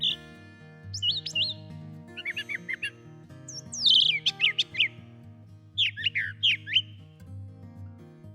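A brown thrasher sings in short bursts of varied whistled and chirping phrases that mimic other birds' calls, clear and fairly close over a quiet low hum, with pauses between phrases.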